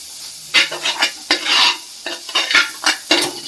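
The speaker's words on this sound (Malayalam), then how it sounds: "ഒരല്പം കായപ്പൊടിയും കൂടെ ചേർത്ത് നമുക്ക് ഒന്ന് ഇളക്കി യോജിപ്പിച്ചതിന് ശേഷം" Fish curry masala with asafoetida being stirred in a pan, a series of scraping, sizzling strokes in irregular bursts, close and moderately loud with no voices.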